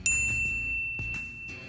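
A bright bell ding rings out once at the start and lingers as a sustained tone, followed by a few soft tinkling chimes over its fading ring.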